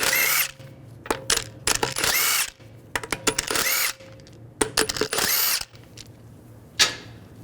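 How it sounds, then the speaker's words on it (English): Power tool with a 17mm socket removing lug bolts from a 2009-2017 Volkswagen Tiguan wheel, loud bursts of high whirring drill noise in short and longer runs, with pauses and clicks between, close and alone. "Using a 17mm socket, take the lug bolts out."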